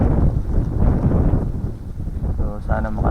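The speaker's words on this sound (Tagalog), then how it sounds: "lakas ng hangin." Strong wind buffets the microphone outdoors during a hunt, a loud rumbling roar that dips briefly midway before more gusts and some handling noise follow.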